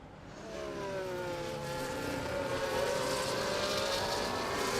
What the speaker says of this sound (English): Let's quickly watch these cars going through here.